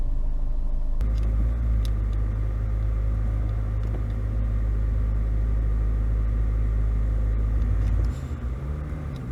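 Hyundai Santa Fe DM 2014 with the 2.0 engine driving, a steady loud low road and engine rumble throughout that drops in level near the end as the car eases off, with no talking.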